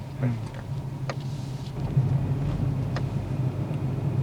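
A Hyundai Aura CNG car pulls away, its steady low engine hum and road rumble running throughout at close range, with people talking inside over it.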